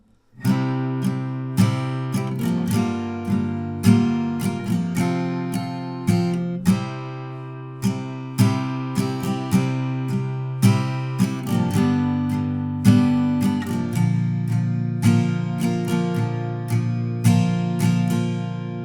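Acoustic guitar strumming chords in a steady rhythm of down and up strokes, clear and close, with occasional chord changes and no voices.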